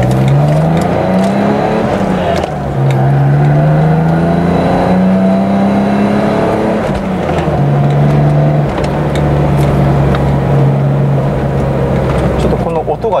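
Engine of a BMW M6 while driving, a steady low droning tone that rises and holds across the clip, loud and continuous with some cabin noise.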